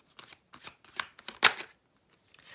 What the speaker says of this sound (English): Let's get one of these Enigma cards for Aries